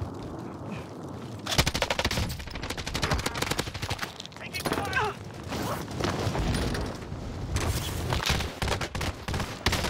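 Gunfire from a PKM machine gun in a first-person shooter on the Alcatraz map, with dense bursts of rapid shots repeating loudly through the clip, mixed with game effects and occasional voice.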